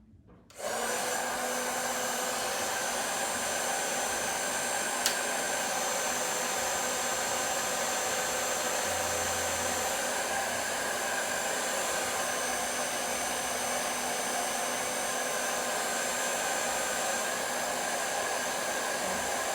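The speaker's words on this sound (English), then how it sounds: "So we're gonna go on with the hair dryer." A hair dryer blows steadily and close by, a constant whooshing hum that starts abruptly and runs unbroken.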